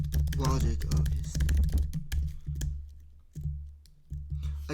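Keys clatter on a computer keyboard resting on an uneven surface, with irregular bursts of typing that are loud and close, under and between stretches of someone talking.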